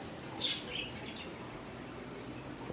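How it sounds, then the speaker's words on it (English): Outdoor birdsong: a single bright chirp rings out near the start, followed by a few faint calls over a steady background hiss. "The birds chirping and stuff."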